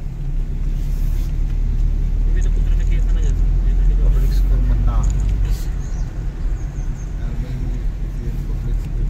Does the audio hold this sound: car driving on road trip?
yes